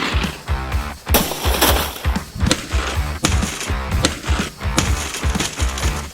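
Glass and objects are smashed in a destruction session, a loud close series of sharp crashes and shattering impacts repeating irregularly every half second or so, with crunching debris between hits.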